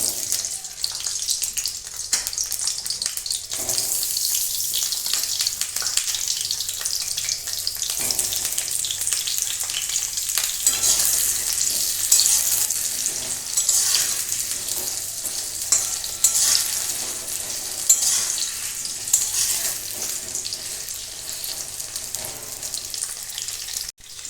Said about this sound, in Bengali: তেলে এখন আমি আলু দিয়ে দিচ্ছি আলুগুলোকে তেলে আমি খুব ভালো করে ভেজে নিচ্ছি